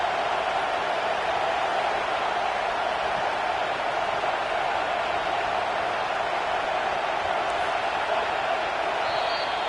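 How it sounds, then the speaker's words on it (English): A home crowd roars steadily through a football game on third down as the defense tries to get off the field, a dense continuous wall of cheering with no spoken voice over it. "Here comes this home crowd as the defense tries to get off the field on 3rd down."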